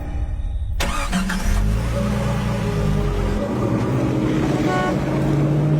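A cartoon car starts up with a sharp burst and drives on, its engine a loud steady hum and rumble throughout.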